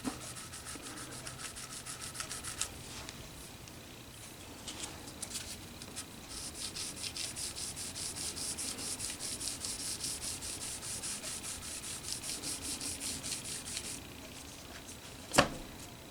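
A lacquer gloss finish is wet sanded by hand with 2400 grit sandpaper, using oil soap as a lubricant. Soft, steady rubbing strokes continue throughout, close and quiet, ending with one sharp tap near the end.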